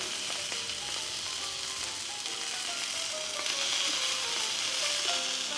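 Italian sausages sizzle steadily on a hot griddle, a close, continuous frying hiss with faint crackles and no talking.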